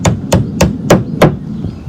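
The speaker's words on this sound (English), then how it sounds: "Just tap it in with the hammer." Five sharp hammer taps drive a furniture glide tack in an even rhythm, close and crisp, followed by a couple of lighter knocks.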